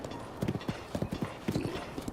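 Horse hooves clip-clop in a quick, even galloping rhythm in the video game Zelda: Breath of the Wild, close and fairly clear, with no talk over them.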